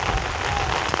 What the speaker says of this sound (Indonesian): Hujan lebat di Wang Kelian.